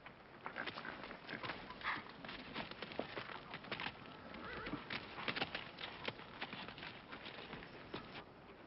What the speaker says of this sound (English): Yeah, I got your horse here.